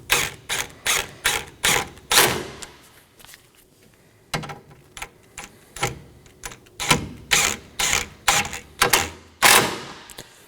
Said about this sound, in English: Now we can install our 4 10mm bolts. Now we can snug these down.